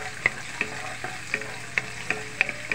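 Spring onion sizzles steadily in a hot pan, with a spatula scraping and stirring at regular intervals.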